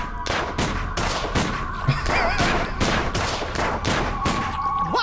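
Gunfire in the video game Sam and Max: The Devil's Playhouse, a rapid series of sharp, loud shots in regular bursts, close and continuous, with a faint electronic warble in the background.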